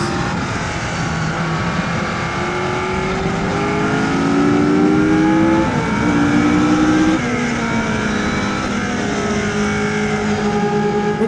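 A Brabham racing car's engine roars continuously on a track, its pitch climbing and dropping through gear changes as it drives hard, loud and close.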